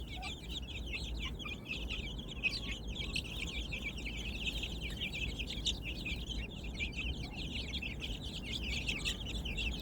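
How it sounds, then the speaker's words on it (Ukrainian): Dense, continuous high-pitched peeping from many contented chicks, with clucking bantam hens over a steady low background hum, in a garden. "Що може бути краще за цей звук, коли курчатка задоволені?"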